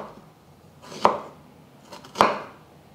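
Knife slicing through ginger on a cutting board, two distinct sharp chops about a second apart, close and clear.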